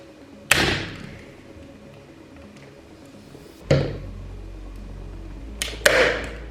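A staple gun fires staples into a new motorcycle seat cover for a Megelli 250r pillion seat, giving three sharp, close snaps spaced a few seconds apart, the last a quick double hit.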